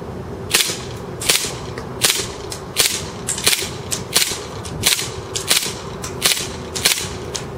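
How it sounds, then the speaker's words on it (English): A KWC Taurus PT99 CO2 BB pistol fires semi-automatic down range, about a dozen sharp, snappy cracks spaced roughly half a second to a second apart, close and loud with no talking. "now we are just going to be shooting down range"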